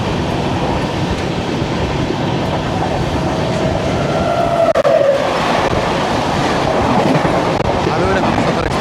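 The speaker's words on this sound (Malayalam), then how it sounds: "അതൊരു ഹംസഫർ എക്സ്പ്രസ് ആണ്" A Humsafar Express train passes on a crossing track, heard from aboard another train as a loud, continuous rush of wheels and rail clatter, swelling midway, with faint voices underneath.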